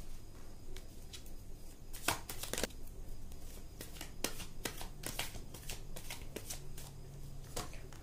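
Tarot cards being shuffled by hand, heard close up as repeated crisp riffling bursts and soft card slaps in an irregular rhythm, with no voices.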